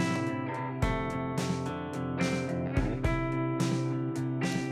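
A snare drum with a delay effect sits within a full beat mix, its hits smearing into lingering repeats among sustained tonal layers and other percussion, loud and continuous.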